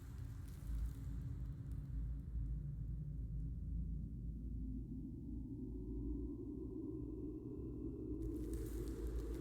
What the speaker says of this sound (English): Oh man, I'm hearing big thunder.